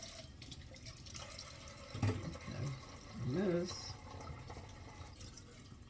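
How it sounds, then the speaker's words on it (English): Tap water runs into a kitchen sink as empty cans are rinsed, a steady wash with a few louder splashes and clunks midway, while a person talks briefly over it. "rinse these cans out"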